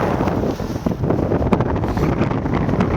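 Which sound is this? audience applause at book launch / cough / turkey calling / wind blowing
wind blowing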